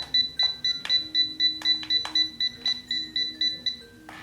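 A CHI Spin and Curl hair curler signals a reset with rapid high-pitched electronic beeps repeating in a steady rhythm, about a dozen short chirps close by, with a few clicks and handling sounds.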